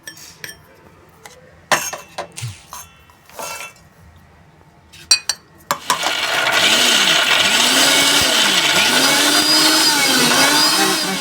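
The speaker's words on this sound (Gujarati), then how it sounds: "હવે આપણે આમાં કોથમીર મરચાં લઈશું," A few sharp clinks and clatters of kitchen utensils come first. Then a mixer grinder crushing coriander leaves and green chillies starts up with a loud, continuous whirring roar that lasts about five seconds.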